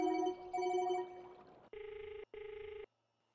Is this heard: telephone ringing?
yes